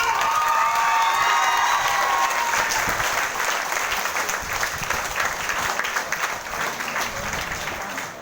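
Loud, sustained audience applause at a stage business plan event, with dense clapping, some cheering and crowd noise, holding strong throughout and easing slightly toward the end.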